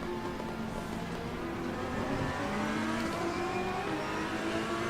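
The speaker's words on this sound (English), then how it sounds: "Oh, the car sounds great." A race car engine in Assetto Corsa Competizione, a sim racing game on the Nürburgring circuit, drones at a steady, moderately loud pitch throughout, with slight rises and falls in revs and no talking.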